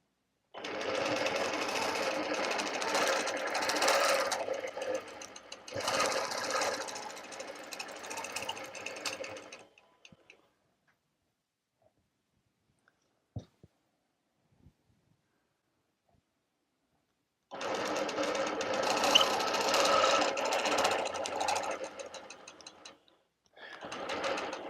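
Sewing machine stitching a quilt border in bursts: two long runs of steady, loud mechanical whirring, then a quiet pause with a few faint clicks, then another long run and a short one.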